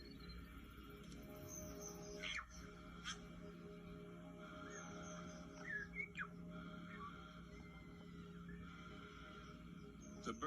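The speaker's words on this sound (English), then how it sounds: "the forest air is thick with the rustling of small creatures and the songs of myriad birds" Varied birds of a New Zealand forest chirp and call against a faint, even background hum, with scattered short whistles and tweets coming from some distance.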